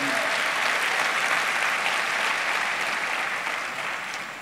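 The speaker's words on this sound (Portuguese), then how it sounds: "Pode aplaudir o Senhor" A congregation at a Portuguese-language church service applauds the Lord, a full, continuous roar of many hands clapping that holds steady and then tapers off near the end.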